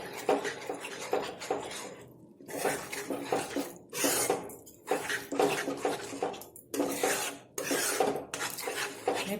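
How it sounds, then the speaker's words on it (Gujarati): A spoon stirs about four spoonfuls of fresh cream into a green corn curry in a pan, giving repeated scraping and rasping strokes in uneven bursts with brief pauses, close and moderately loud. "તેને સાથે શાકની અંદર મિક્સ કરી લઈશું."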